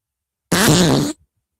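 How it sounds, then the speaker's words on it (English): One loud, buzzy fart sound effect bursts in after a short silence, holds a steady rasping tone for about half a second, then cuts off abruptly. "Seagal fart 3."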